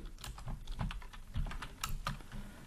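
Rapid, close keystrokes on a computer keyboard as a workspace name is typed in, with clicks falling in quick irregular bursts and no talking.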